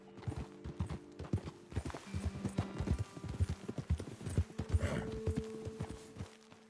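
Horse hooves clopping in a steady walking rhythm during a video game ride, close and fairly loud, with a snort or whinny amid soft background tones.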